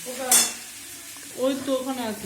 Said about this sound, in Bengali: পাস্তা দিয়ে দেখো নাড়ছে এত সাউন্ড করে নাড়ছে ভাই মানে খুন্তুগুলো পুরো কড়াইয়ের মধ্যে আওয়াজ করে করে রান্না করছে